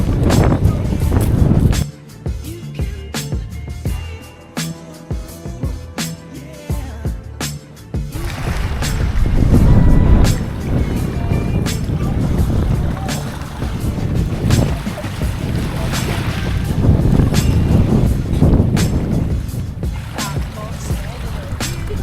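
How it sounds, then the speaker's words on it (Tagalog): A boat's engine drones and rumbles low and steady at Dingalan, with wind buffeting the microphone and splashing water, while people talk over the noise. "Sasakay na tayo ng bangka."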